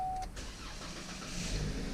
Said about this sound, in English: now it's safe to have our engine running